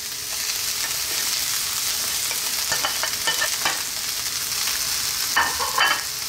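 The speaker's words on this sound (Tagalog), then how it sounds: "So, haluin ko lang siya sandali." Cooked rice with vegetables being stir-fried in a pan for a Filipino vegetable fried rice, a soft steady sizzle broken by scattered scraping and clinking of a utensil; no voices.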